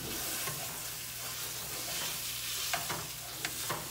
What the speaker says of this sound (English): What kind of sausage? This is Jimmy Dean regular. You could use the spicy, but I'd rather not. You just don't let that cook. Let that fry up.